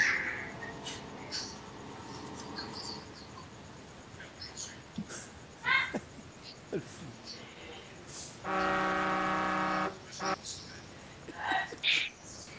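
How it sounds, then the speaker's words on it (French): A loud, sustained truck horn in a farming video game blares for about a second and a half in the middle, with murmured talk and clicks scattered before and after. "Si c'est pas Jérôme, c'est moi qui klaxonne."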